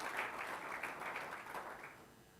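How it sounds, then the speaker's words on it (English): Applause from the audience at a MICTSETA annual general meeting: a moderate burst of clapping from a mid-sized crowd that holds fairly steady, then thins and fades toward the end. "Let's give them a round of applause."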